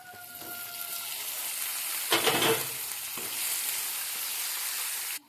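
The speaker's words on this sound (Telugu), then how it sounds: "ఇప్పుడు క్యాప్సికమ్ ముక్కలు వేసుకుందాం" Capsicum pieces fry in a pan of garlic paste, a steady close sizzle with a louder burst of stirring and scraping partway through, ending abruptly.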